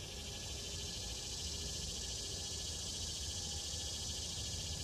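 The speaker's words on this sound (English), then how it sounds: "I love the sound of the cicadas." Outdoors in a Southern setting, cicadas chirp in a dense, continuous, loud buzzing drone that holds steady throughout without a break.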